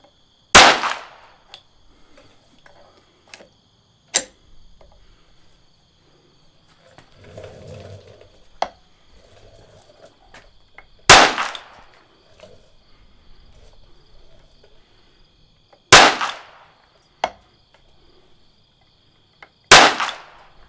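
Single shots from a Smith & Wesson Victory .22 pistol with its standard barrel, firing CCI standard velocity ammunition at an outdoor range; four sharp, loud reports spaced several seconds apart, with faint clicks and handling noise between them.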